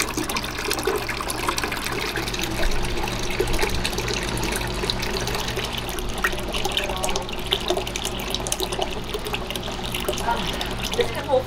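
Liquid chocolate ice cream dairy base gushes steadily and loudly into a big bucket, a continuous close rushing pour with no break.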